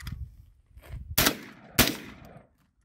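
A rifle firing outdoors at sand and trash, two sharp loud shots about half a second apart, close, each trailing into a brief echo, with low rumble before and silence after.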